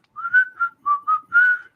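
Someone whistles a tune: five short, clear melodic notes in a brisk rhythm, close and alone with no talk.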